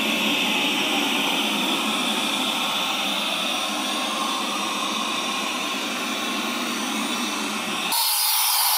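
A Narwal Flow robot vacuum cleaner hums with a steady, loud airy whoosh while vacuuming, continuous throughout before cutting off abruptly near the end into a different tone.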